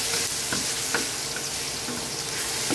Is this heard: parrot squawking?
no